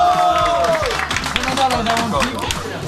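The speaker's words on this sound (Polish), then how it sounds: "naprawdę wielkie brawa!" Loud clapping and crowd noise ring out for a senior competitor at a slalom award ceremony in Wisła, mixed with chatter and raised voices throughout the short burst.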